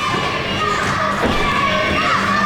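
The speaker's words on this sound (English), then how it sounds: "we can definitely hear the crowd has a personal opinion about Jerry the Jester now" A crowd at a live pro wrestling show reacts to Jerry the Jester with a loud, continuous wash of shouting and jeering voices. A thud lands near the middle.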